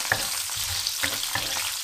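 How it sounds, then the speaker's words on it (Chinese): Whole spices, scallion, ginger and garlic hit hot oil and are stir-fried, a close sizzle broken by about four rhythmic scraping strokes of the spatula, with no voices. "油热以后把香料还有切好的葱姜蒜一同下锅，煸炒20秒左右，炒出香味儿"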